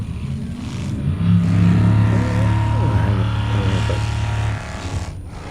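A Hellcat-engined formula offroad car revs hard and close, its deep engine note rising and holding strong for several seconds before dropping back, with a faint voice in the background.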